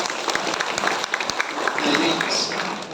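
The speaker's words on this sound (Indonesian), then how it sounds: "Tepuk tangan untuk Malaysia." An audience at a large religious gathering in Kuala Lumpur claps steadily in a dense burst of applause, with a voice speaking over it toward the end.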